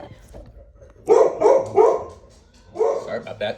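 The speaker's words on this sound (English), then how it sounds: "That's my dog getting angry at a squirrel or something." A dog barks angrily, likely at a squirrel, in two close bursts of sharp, loud barks, with a person speaking briefly afterward.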